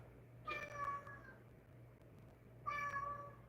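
A house cat meows twice, a drawn-out tonal cry followed by a second after a pause, close and fairly quiet over a low background hum.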